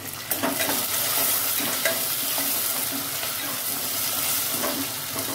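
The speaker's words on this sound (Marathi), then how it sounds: "आता याच्यामध्ये कढीपत्ता, मिरच्या ऍड करायची।" Curry leaves and green chillies frying in hot oil with toasted urad and chana dal, a continuous bright sizzle with scraping stir strokes throughout, close and fairly loud with no voices.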